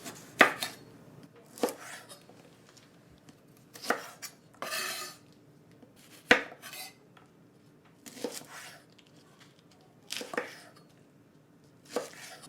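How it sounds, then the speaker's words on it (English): A kitchen knife chops through vegetables for roasting, trimming the ends off in close, crisp strikes that land about every two seconds, each a sharp knock against the cutting board with quiet gaps between and no talking. "I'm just gonna take my knife and cut the end off of them"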